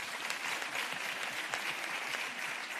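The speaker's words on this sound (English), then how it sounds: "Please clap hands for her." Audience clapping at a G20 research and innovation side event, steady dense applause from a crowd that holds at an even level for the whole stretch.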